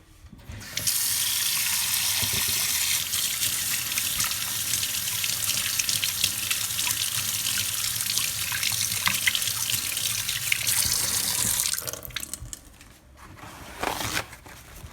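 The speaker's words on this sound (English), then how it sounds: "I'm gonna come over here and wash off my hands." Hands washed under a running kitchen tap while cooking a salmon dinner, a steady close rush of water splashing into the sink for about eleven seconds, then the flow shuts off into a few faint drips and handling noises.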